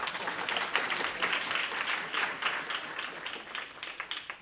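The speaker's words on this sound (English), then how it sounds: "This is the part where we have to clap hands." Audience members at a Pan African conference session clap their hands in sustained, even applause, a dense patter of many hands continuing throughout without speech.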